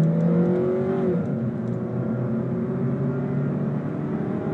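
A 2006 Nissan Altima pulls hard from a standstill to 60 mph, its engine note rising steadily in pitch, dropping at a gear change, then droning loud and continuous from inside the car.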